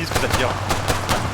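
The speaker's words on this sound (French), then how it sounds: "Au niveau de l'église que ça tire." Gunfire in the ArmA 3 video game near a church, several sharp shots in an irregular burst over steady background noise, with speech partly present.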